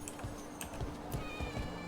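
A cat meowing in Dragon Age: The Veilguard, several short, fairly quiet meows in quick succession over a low ambient game background.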